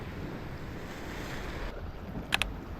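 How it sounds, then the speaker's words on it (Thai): Big waves wash against a rock breakwater on a Thai sea coast on a rainy night, a steady roar of surf with heavy wind noise and two sharp clicks near the end. "ดู น้ำดูคลื่นครับ นี่แหละครับคลื่นใหญ่ปลาใหญ่"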